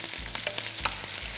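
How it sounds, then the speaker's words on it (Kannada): Mustard seeds, cumin, chana dal, curry leaves, onion and dry red chillies tempering in hot oil give a loud, continuous close sizzle, dotted with sharp crackles and pops, with no voices. "ಒಗ್ಗರಣೆ ನೀವು ಸಾಸಿವೆ ಹಾಕೊಂಡಿದ್ದೀರಾ ಆಮೇಲೆ ಜೀರಿಗೆ ಜೀರಿಗೆ ಕಡಲೆಬೇಳೆ ಕರಿಬೇವು ಕರಿಬೇವು ಈರುಳ್ಳಿ ಮತ್ತೆ ಒಣ ಮೆಣಸಿನಕಾಯಿ"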